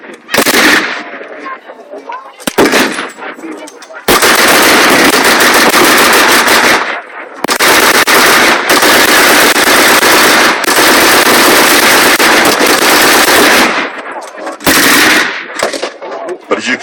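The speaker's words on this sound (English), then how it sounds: "the Browning machine gun making the Germans keep their heads down and daring not to move" A Browning machine gun fires loud, close bursts of rapid automatic fire at a WW2 battle re-enactment at Dover Castle, several long volleys separated by brief silent pauses, with a few shorter stuttering bursts.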